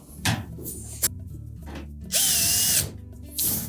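A power drill drives a screw into a Whirlpool washer panel, giving short bursts and then one sustained high whine of about a second, with faint clicks and handling noises around it.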